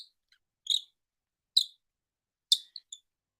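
Short bird calls, likely from a toy or decoy bird call, come in a few separate high chirps with gaps between them in a quiet room and no voices.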